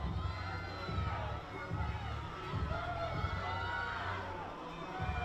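Spectators at a swimming championship cheer and shout for racing swimmers, a continuous crowd roar with excited children's yells beneath a commentator's voice.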